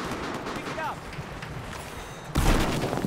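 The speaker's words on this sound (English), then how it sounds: "I hear gunshots like crazy" Dense bursts of Battlefield 4 gunfire crackle fast and busy, with a heavy boom near the end, while a voice talks over it.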